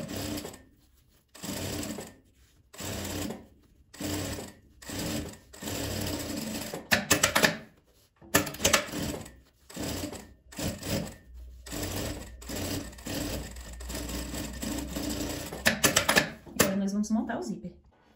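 A sewing machine topstitches a small fabric pouch in repeated bursts of rapid mechanical stitching, each run separated by short pauses. Someone talks over and between the runs.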